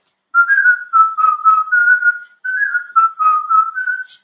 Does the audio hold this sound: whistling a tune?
yes